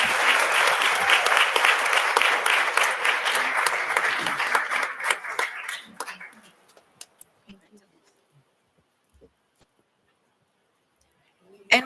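Loud applause from the audience at a Passaic city council meeting held for a Women's History Month celebration fills the room for about six seconds, then breaks into scattered claps and quiet, with a short burst near the end.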